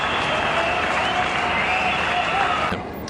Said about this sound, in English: Plenty of cheering out there for one of the local heroes.